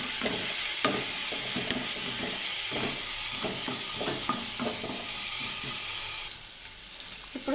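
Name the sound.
ginger garlic paste and turmeric frying in pan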